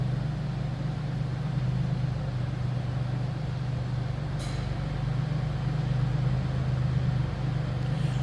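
A 1993 Buick Riviera with its 3800 V6 idles quietly and close, a low steady hum holding unchanged throughout with no talking.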